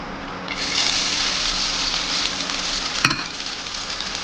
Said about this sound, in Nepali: हामीहरू घिउमा राई मासुलाई भुट्छौँ